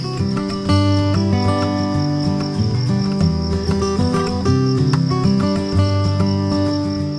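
Crickets in an enclosed cricket-farm pond make a steady, high, pulsing chirr that runs the whole time over a dense bed of other tonal sound.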